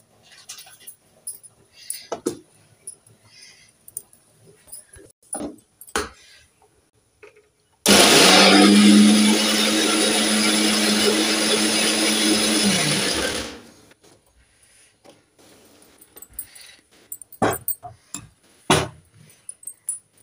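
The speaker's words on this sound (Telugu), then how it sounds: "అంత లోపల దీన్ని మిక్సీ పట్టుకుంటుంది." Kitchen mixer grinder whirring loudly for about six seconds as it grinds spice ingredients for a fish curry, starting and stopping abruptly between quiet stretches of small kitchen clatter.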